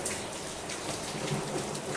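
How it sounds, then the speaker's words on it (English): Steady, dense rain falls on surfaces outdoors at a natural habitat and bird sanctuary during the long November rains, a continuous close hiss with no voices. "Then November gives us a surprise, gives us a wonderful surprise with the long rains."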